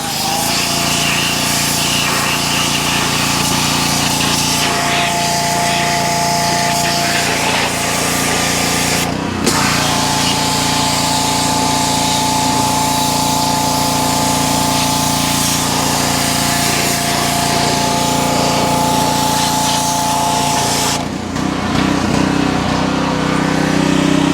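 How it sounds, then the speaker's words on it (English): A loud, steady motorized whine of a pressure washer cleaning the engine of a 1961 Pannonia Deluxe motorcycle left sitting for over 30 years, running continuously, with a brief dip partway through and a change in tone near the end. "I'm just pressure washing the engine"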